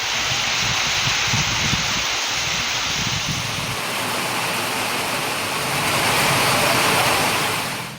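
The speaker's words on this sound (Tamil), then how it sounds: "குளிர்ந்த காற்றுடன் மழை பெய்தது" Heavy rain pours steadily at Marthandam, a dense, loud, continuous hiss and roar with no pauses and no voices.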